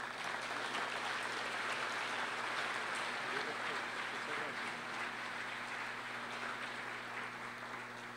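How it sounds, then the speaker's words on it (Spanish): Audience applause at a university business school student induction ceremony, a steady dense wash of clapping running throughout at moderate level, with a low hum beneath. "les damos un aplauso"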